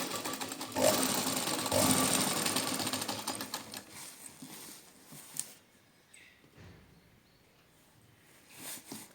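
A sewing machine stitching a pocket onto palazzo pants runs in a fast, close, continuous whirring rattle for about four seconds, then stops, leaving quiet handling noises.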